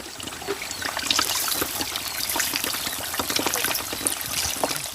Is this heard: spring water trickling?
yes